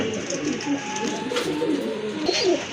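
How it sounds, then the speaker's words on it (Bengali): Pigeons, including a pair of Jerry Spring red-faced birds at a pigeon seller's, coo in low, soft murmurs throughout, steady and close against a busy background hum. "এখানে কিন্তু আরেক জোড়া কবুতর আছে"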